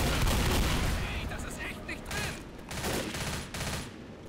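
Rapid, continuous automatic fire from a gun in the zombie shooter Left 4 Dead, a dense rattling barrage that stays loud and close the whole time with slight dips between bursts.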